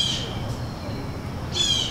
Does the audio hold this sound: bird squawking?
yes